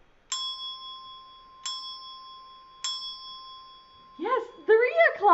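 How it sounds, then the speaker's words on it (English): A bell rings three times to count the hour, clear sustained dings at even intervals, each left to ring out before the next, followed by a person starting to talk. "Okay, I'm going to ring the bell."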